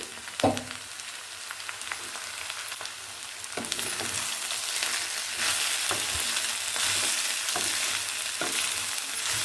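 Shredded cabbage stir-frying in a hot pan for sauceless fried rice, a steady close sizzle with occasional sharp clatters of a spatle against the pan.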